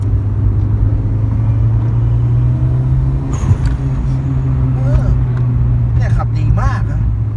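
A car on the road with a steady low engine drone and rumble that swells slightly as it accelerates to overtake, heard from inside, with people talking over it throughout.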